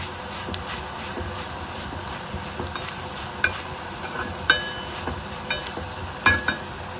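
Spices dry-roasting in a pan, with turmeric and fenugreek seeds, for a Havyaka-style basale greens sambar. A steady soft sizzle and hiss runs throughout, broken by scattered clinks and scrapes of a spoon stirring against the pan, with no talk.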